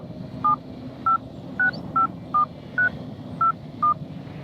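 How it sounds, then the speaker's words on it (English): A Samsung Galaxy Watch Active 2 dialing a phone number makes eight short, crisp keypad beeps at a steady pace over faint background hiss. "But how about making a call from the Watch Active 2? I choose the call function, enter the number,"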